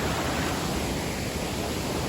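A waterfall near a remote forest village, with people preparing to wade across the stream, gives a steady, dense rush of falling water, loud and unbroken throughout, with no voices.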